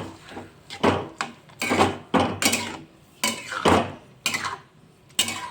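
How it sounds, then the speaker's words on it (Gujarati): Bottle gourd halwa mixture with sugar is stirred in a pan, heard close as repeated scraping and clattering strokes of a spoon against metal in an uneven rhythm. "આપણે બધું મિક્સ કરી લઈશું"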